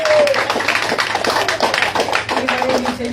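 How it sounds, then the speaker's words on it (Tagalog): A church congregation claps in scattered, fading applause during a sermon, close and mid-level, while a preacher's voice carries over it. "Yung mga palakpak nyo parang kandilang nauupos."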